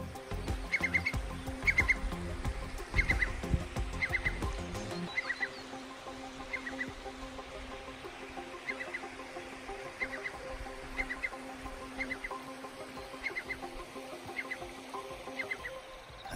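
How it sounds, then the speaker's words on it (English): A curlew's call repeats at a steady pace, a series of clear bubbling notes, with a louder rustling background fading out early on. "And that was a curlew"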